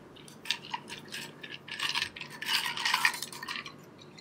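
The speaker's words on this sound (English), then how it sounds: "I'm going to give this one a stir." Ice clinking and rattling as a gin cocktail is stirred in a glass at a bar, a close, continuous run of bright clinks swelling and fading without talk.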